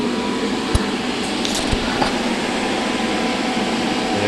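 A personal swamp-cooler air conditioner runs from a single 12-volt battery with a steady, close fan whir and airflow hiss, broken by a few brief clicks and taps near the start.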